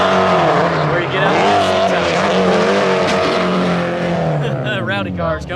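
Drift cars skid and squeal their tires around a race track at a drift event, a loud continuous roar of engines and screeching rubber with rising and falling pitch throughout.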